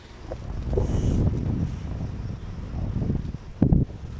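Strong wind buffets the microphone in heavy, rumbling gusts, swelling and easing throughout, with a brief sharper knock near the end.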